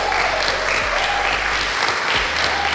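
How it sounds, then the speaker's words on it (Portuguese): A studio audience at a church talk show applauds a guest pastor with a dense, continuous roll of clapping that holds steady throughout, with no clear talk over it. "Vamos aplaudir o pastor Brunão, galera"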